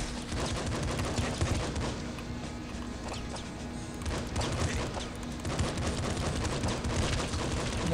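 Rapid gunfire in the top-down shooter video game Nuclear Throne: dense, continuous bursts of clattering shots that swell and dip over several seconds, with no clear pause.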